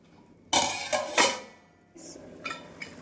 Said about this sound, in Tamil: நாம் அரை கப் தண்ணீர் சேர்த்து மூடி வைத்து விடலாம்